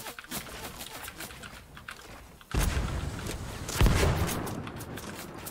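Gunfire in Fortnite, in a John Wick-themed match: a couple of loud, abrupt bursts of shots break out over a steady background din, one after a lull and another a second later.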